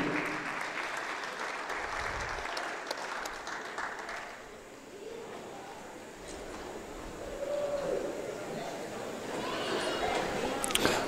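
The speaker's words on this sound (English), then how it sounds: "please give a big round of applause for all of our seniors" Crowd applause in a high school gym on basketball senior night, honoring the seniors of the band, cheer and basketball teams; sustained clapping fills the whole stretch, dipping briefly midway then swelling again, with scattered voices and cheers mixed in.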